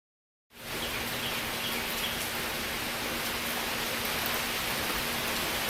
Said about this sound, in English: Damn rain.